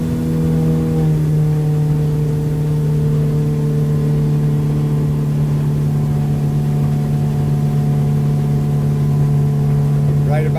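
A 2020 Hewes 180 boat runs at cruising speed on the water, its engine holding a steady, close mid-pitched drone throughout with hardly any change in tone.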